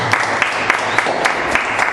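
Rhythmic clapping from a church congregation during a service, steady beats roughly every quarter second, fairly close and lively.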